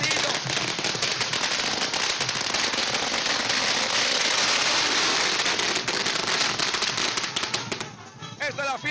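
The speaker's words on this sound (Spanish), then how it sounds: "Petardos, cuestillos." Firecrackers burst in a rapid, relentless crackling barrage at the Gran Poder festival in La Paz, Bolivia, loud and close for several seconds before thinning out near the end.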